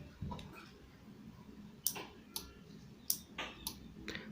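A homemade relay module's electromagnet switches with a few sharp, faint clicks at irregular intervals over quiet background noise.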